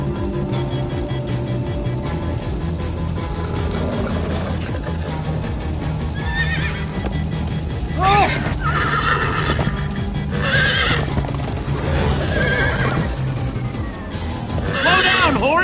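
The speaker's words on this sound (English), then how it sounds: "Slow down, horse!" In Minecraft: Story Mode, a horse whinnies several times amid clopping hooves, over a dense, continuous background of game music and effects.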